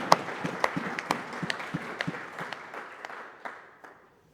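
Applause from a church congregation, close and lively at first with scattered individual claps, then thinning and fading out over a few seconds.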